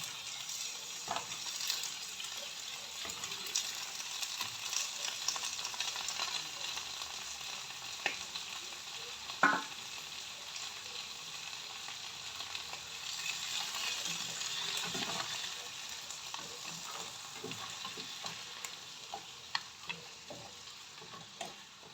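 Seafood mix, still partly icy, hissing and sizzling steadily in a hot pan with occasional scrapes and clinks from stirring, a close continuous fry with no voices.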